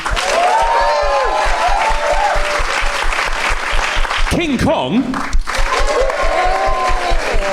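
A live audience at a Halloween monster vote cheers and applauds loudly for Nosferatu, a dense roar of clapping and whoops that swells under a host's voice, which briefly drops out midway.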